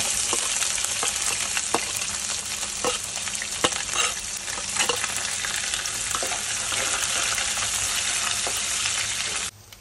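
Mustard seeds and chana dal fried in hot oil, a continuous bright crackling sizzle with frequent spatula scrapes and taps as they are stirred, close up and with no talk.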